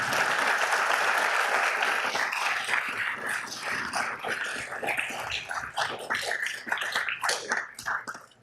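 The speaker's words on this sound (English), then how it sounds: "Those efforts have to be applauded." Applause at a Downey city council meeting honoring a citizen, sustained clapping from a room of people that thins into scattered, uneven claps toward the end.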